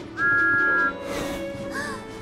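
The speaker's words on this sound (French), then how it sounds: "Un long coup de sifflet." A long, steady train whistle tone sounds once, holding for most of a second, followed by a shorter, fainter whistled note over quiet background noise.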